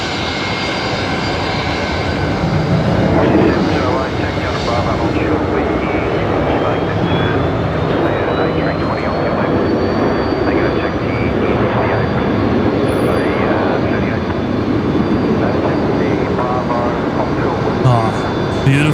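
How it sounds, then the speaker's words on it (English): A jet airliner lands at Brisbane Airport at night in rain, a loud sustained roar of reverse thrust rising and holding for many seconds, with a faint voice in the background. "That reverse thrust sounding awesome tonight"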